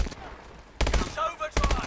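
Bursts of video game gunfire in Call of Duty Advanced Warfare, two loud dense volleys after a quieter stretch of background game sound.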